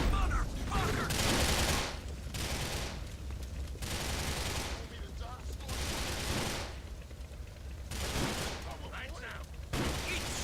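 Gang members trade gunfire in the Grand Theft Auto video game, with dense bursts of rapid, loud automatic fire in several long volleys broken by short pauses, a voice talking in between.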